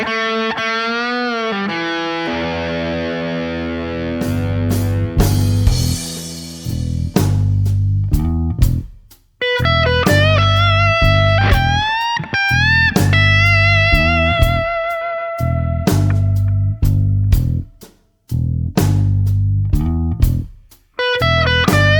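Distorted electric guitar playing a gritty classic rock lick, loud and close, with bent notes and short phrases separated by brief gaps, alone without talk.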